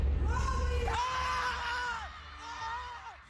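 Fans at the PBB Celebrity Collab big night cheer and shout for the winners, with loud crowd yells and whoops rising in waves and voices mixed through the din.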